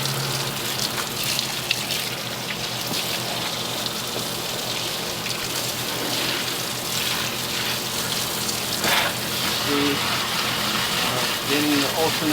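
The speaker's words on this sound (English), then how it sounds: "I like to use a fine mist spray and just let the water rinse the soap and dirt away" Fine mist water spray rinsing the engine bay of a Ford Crown Vic, a steady, even hiss of spray that continues throughout with slight surges near the end.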